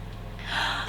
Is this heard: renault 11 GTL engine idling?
no